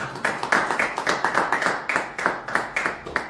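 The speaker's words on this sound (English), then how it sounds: "I believe that deserves a round of applause." Steady clapping from a small group at an investment meet-and-greet in Toronto, a brisk even patter of hands that continues throughout without cheering or voices.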